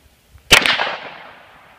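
Hi-Point pistol fired at an outdoor shooting range, a single sharp, loud close gunshot crack followed by a short echoing decay, with no talk.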